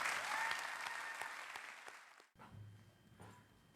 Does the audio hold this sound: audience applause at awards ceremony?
yes